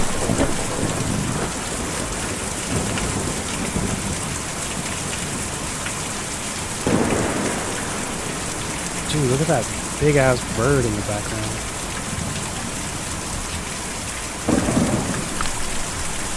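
Steady heavy rain with several rolling thunder claps in the video game Kentucky Route Zero, while someone talks casually over the storm.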